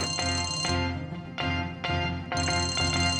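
A phone ringtone plays loudly in repeated melodic bursts, pausing briefly between phrases, close by with no talking.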